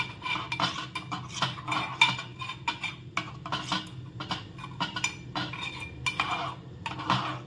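A spoon stirs a coffee mixture in a cup, clinking rapidly and continuously against the sides in a close, busy rhythm throughout.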